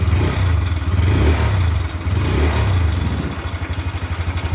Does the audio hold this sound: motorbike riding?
yes